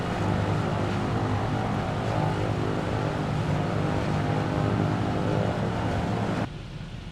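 A PZL-104 Wilga propeller plane in a flight simulator game gives a steady, loud engine and propeller drone with airflow rush. The sound holds constant for most of the stretch, then drops suddenly in level near the end.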